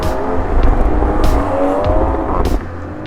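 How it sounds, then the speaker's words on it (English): A 2021 Toyota Supra's B58 turbocharged engine accelerates hard with pops, a loud sustained rising roar with sharp crackles cutting through, heard from inside the car. "there's the familiar sound of the B58 turbocharged"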